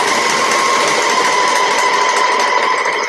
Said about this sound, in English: so I've sewn my neckband.